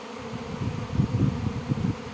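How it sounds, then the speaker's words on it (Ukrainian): A gathering swarm of bees gives a close, loud, continuous droning buzz with a low wavering hum that rises and falls, and no voices are heard. "І він вже збирається рій."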